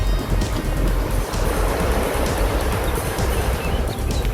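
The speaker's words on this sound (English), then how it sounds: "The sea's calmed down a bit from the other day, quite rough the other day." Sea waves washing against the Algarve coast at Carvoeiro, the water calmer than on rougher days; a steady, fairly loud roar of surf with wind buffeting the microphone, no voices.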